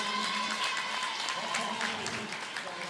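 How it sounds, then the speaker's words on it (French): Stadium crowd applauding at a women's football match between Lyon and Guingamp at Stade Fred Aubert in Saint-Brieuc, a steady wash of clapping from many spectators, distant and sustained, with a commentator's voice faintly underneath. "Les applaudissements du stade Fred Aubert de Saint-Brieuc pour Désiré Oparanosier."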